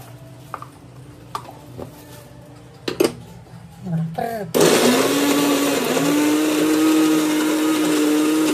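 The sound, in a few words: mixer grinder blending garlic and coriander mixture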